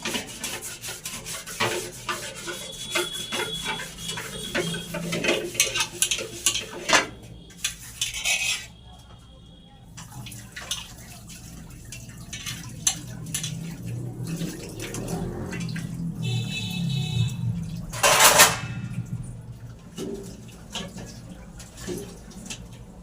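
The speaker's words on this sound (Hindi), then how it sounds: "पहले बर्तन धो दे रही हूँ, फिर स्लिप साफ करूंगी।" Dishes, pots and pans are scrubbed and rinsed by hand in a home kitchen, with steady rubbing, scraping and clattering of steel utensils, running water and occasional sharp clanks, close and continuous.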